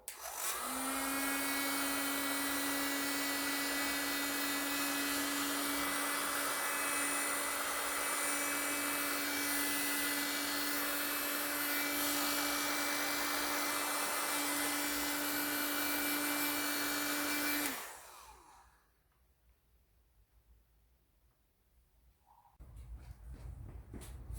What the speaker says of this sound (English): now all I've got to do is heat these up, the shrink wraps, and then give it a go